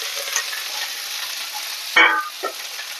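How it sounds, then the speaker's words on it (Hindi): Okra sizzles and crackles steadily in a hot pan as it is tempered, with a sharp burst of frying noise partway through and a quieter sizzle after. "बस तो भिंडी छौंक दूं, उसके बाद बताती हूँ।"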